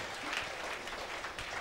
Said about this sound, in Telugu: గట్టిగా చప్పట్లు కూడా దేవునికి స్తోత్రం చెల్లించుదాం